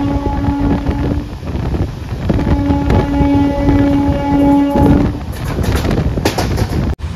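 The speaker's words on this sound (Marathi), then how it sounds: "सेंट्रल रेल्वेची दिवा रोहा दिवा मेमू" A Central Railway Diva–Roha MEMU train is heard from inside, with a loud steady rumble and wind rush. Sustained horn-like tones sound twice, then clattering sets in toward the end.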